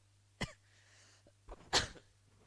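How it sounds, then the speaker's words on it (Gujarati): Two sharp coughs, close and fairly quiet, with a brief breath between them in an otherwise hushed room. "થોડીક ઉધરસ આવે છે"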